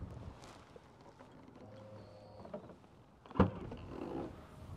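The soft-close boot of a 2012 Skoda Superb 1.4 TSI five-door hatchback pulls itself shut with a faint electric motor hum and then a single firm thud, heard up close.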